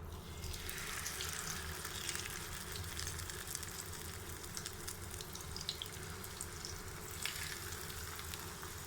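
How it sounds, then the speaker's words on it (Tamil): Fish shallow frying in hot oil, Chennai beach style: a continuous, even crackling sizzle that holds steady throughout, with small bursts of spitting, close and moderately loud with no voices. "இப்போது ஆயில் நல்லா சூடாயிருச்சு. நம்ம எடுத்து வச்சுருக்க ஃபிஷ் இதில் சேர்த்துடலாம்."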